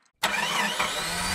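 An old car named Cara Cara cranks and catches after a moment of silence, its engine bursting into a loud, rough, sputtering idle that runs steadily and close.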